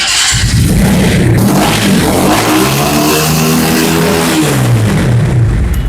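A GTXL v4 limited edition dual-ABS sports motorcycle revs up close and loud, its engine pitch climbing and then falling back across several seconds.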